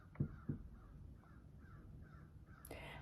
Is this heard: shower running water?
no